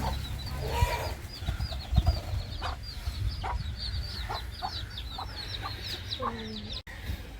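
Hens cluck and chicks cheep repeatedly in a busy farmyard, the high peeps scattered over a constant low background rumble.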